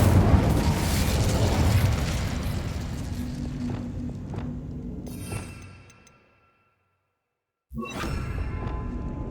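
A fiery Incendio spell blast in Hogwarts Legacy erupts as a loud, roaring burst that crackles and fades over several seconds into silence, then another sharp magical whoosh and burst strikes near the end.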